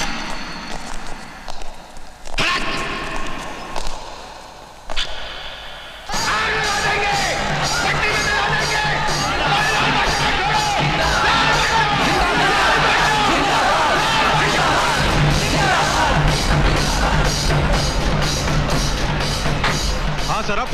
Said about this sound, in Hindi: ऐसे बाहर कुछ लोग चिल्ला रहे हैं